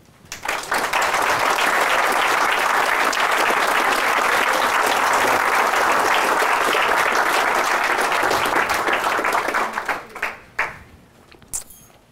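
Loud, sustained applause from a large audience at a talk, steady clapping for several seconds before it thins out into a few scattered claps.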